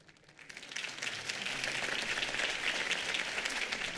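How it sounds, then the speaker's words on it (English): Crowd applause in a Batman video game rally scene, a dense steady patter of many hands clapping that swells in quickly and holds at a moderate level throughout. "could have heard that applause"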